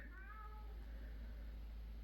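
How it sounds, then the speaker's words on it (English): A cat meows outside a door in the Missouri Ozarks, giving one faint, drawn-out meow at the start over a steady low hum. "Prim's meowing, she's outside."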